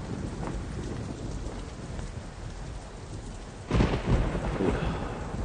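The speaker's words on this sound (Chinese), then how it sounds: "今天的雷好像个个都在我窗边打响。" Heavy rain pours steadily during a thunderstorm, and a loud, close thunderclap breaks in past the midpoint and rolls on as a deep rumble under the downpour.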